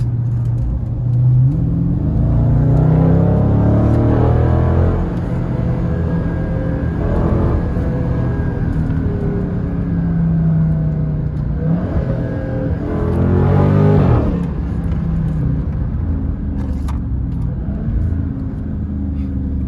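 A Dodge Charger Scat Pack with 490 horsepower accelerates hard in sport mode, its engine rumbling loudly and rising in surges of revving, heard steadily from close up with no one speaking.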